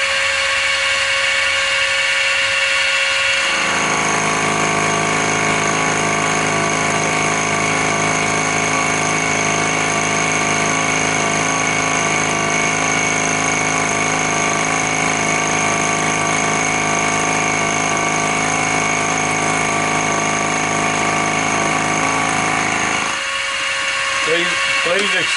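A milling machine cuts a small dovetail with a 3/4 by 3/8 inch insert-type dovetail cutter, giving a loud, steady, high-pitched grinding whine. It starts abruptly after a few seconds and runs about twenty seconds before stopping.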